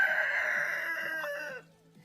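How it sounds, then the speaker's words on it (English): Chickens on a farm, a rooster crowing one long, loud call close by that breaks off near the end, followed by quiet clucking. "Hanging out with the chickens."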